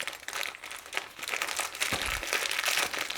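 A small plastic bag holding dartboard fixings for a Target TOR dartboard is crinkled and handled up close, giving a steady rustling crackle throughout with a few sharper crunches.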